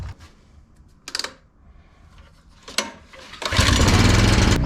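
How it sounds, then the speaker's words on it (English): Air compressor, used to blow out the lines of a 2015 Keystone Bullet travel trailer, cranks after a few brief clicks and clunks, then bursts into a loud, steady roaring run that fills the last second of the clip. "See if we can get this air compressor going"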